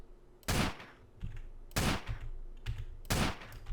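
Pistol shots in GTA San Andreas Multiplayer sound out in three sharp, evenly spaced cracks, each followed by a brief ringing tail, close and fairly loud with no voices.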